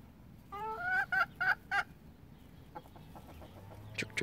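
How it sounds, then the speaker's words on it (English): Pet chickens give a quick series of soft clucks and short calls, fairly close and quiet, with a faint low murmur in the background. "This is my chooks."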